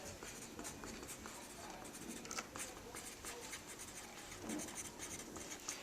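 A pen or pencil writing a label on a biological drawing of a leaf on paper, faint close scratchy strokes in short irregular bursts, with no voice.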